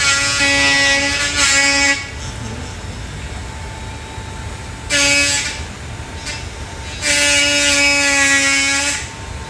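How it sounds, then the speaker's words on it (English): A handheld reciprocating power chisel carves wood in three separate buzzing bursts, each a high, rapid mechanical chatter with a steady pitch, separated by short quiet gaps. "So that's reciprocating chisel."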